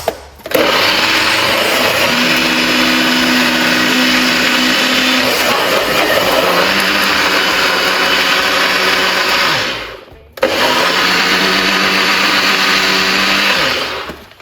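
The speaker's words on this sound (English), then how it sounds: "All right, I'm gonna quickly blend this." A blender runs loudly, whirring on fresh watermelon for juice in a steady drone for about ten seconds, stops briefly, then restarts for a second short burst.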